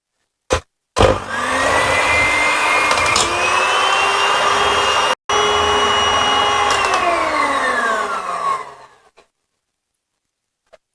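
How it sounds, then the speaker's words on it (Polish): A loud electric mixer whirs steadily at high speed for several seconds while mixing rhubarb cake batter, its pitch shifting slightly, briefly cut off midway, then winding down. "Potrzebny będzie mikser na wysokich obrotach."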